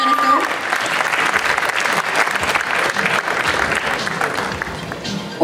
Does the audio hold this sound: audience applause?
yes